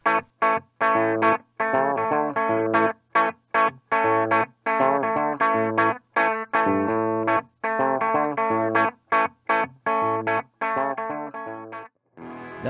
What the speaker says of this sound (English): In the second input, there's a resistor that drops the signal input voltage slightly, so you get a little more padded of a sound.